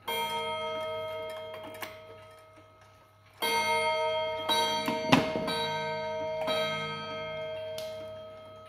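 Steady soft ticking from a Japanese Aichi wind-up pendulum clock with copper gong rods gives way to loud resonant gong strikes spaced over a second apart, their sustained metallic ring overlapping as the ticking continues underneath.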